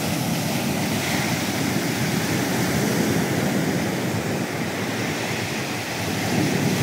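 Heavy sea waves pound the shore in a steady loud surging roar, buffeted by strong wind rumble on the microphone, with no one speaking.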